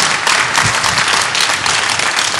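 A hometown crowd applauds at a 10-ball pool championship final, steady dense clapping that fills the short stretch without any talk over it.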